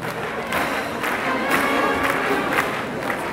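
An arena crowd at the 4th French championship for écarteurs and sauteurs cheers and applauds the competitors with a loud, continuous roar of voices and clapping.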